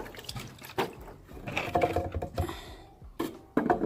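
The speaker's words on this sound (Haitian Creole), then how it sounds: "On va retirer l'eau derrière tout." Water being poured off from behind a container, heard up close as irregular splashing and gurgling bursts mixed with small handling clatter, with no speech.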